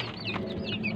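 Kienyeji chickens on a small farm clucking close by, several quick rising calls overlapping in a busy one-second burst, with no talk over them.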